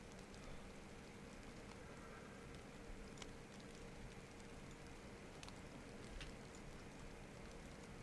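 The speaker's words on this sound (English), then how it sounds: "And it's bloody raining outside" Steady rain falling outdoors in the DayZ survival game, an even, continuous hiss of drops with no breaks, fairly quiet and heard alone.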